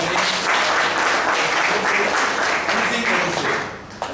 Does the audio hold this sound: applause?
yes